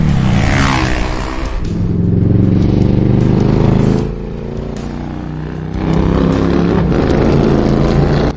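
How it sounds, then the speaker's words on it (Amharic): A sports motorcycle engine runs loud and close, its rough mechanical drone swelling and easing in waves over several seconds, with no voices. "የስፖርት ሞተሩ ወስዳለሁ።"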